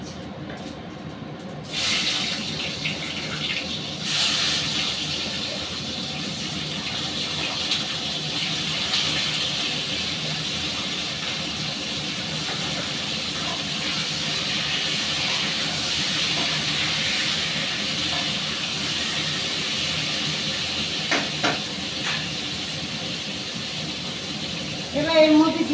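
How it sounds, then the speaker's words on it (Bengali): Whole cumin seeds temper in hot oil before pointed gourd pieces go into the pan, a steady frying sizzle and hiss that continues throughout, with a louder burst of activity at the very end. "সরি, গোটা জিরে একটু ফোড়ন দেব। এবার পটলটা দিয়ে দিচ্ছি।"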